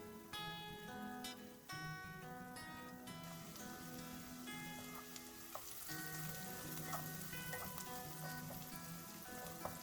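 Onions fry in a pan for a tofu spinach curry, a dense, bright continuous sizzle with occasional stirring, and faint melodic music running underneath.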